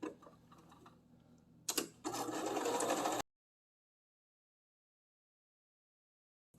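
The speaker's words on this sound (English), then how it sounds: "Now we're going to put this under your machine." Sewing machine stitching a seam on a fabric bowl cozy, a brief close whirring run of rapid mechanical ticking after a few handling sounds, stopping abruptly into silence.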